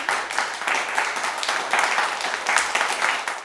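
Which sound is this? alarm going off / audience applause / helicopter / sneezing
audience applause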